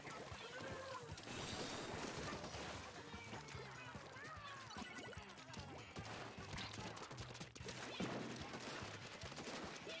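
Weapons firing in Splatoon 2 during an online match, a busy, continuous spray of shots, splats and game effects with music running throughout, while a player talks over the action.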